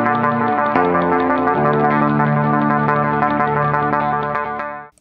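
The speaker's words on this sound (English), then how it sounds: "I'm just going to hammer on the low string for this one." A guitar sounds low notes with smooth hammer-ons on the low string, each new pitch ringing on without a fresh pick attack, then fading to silence.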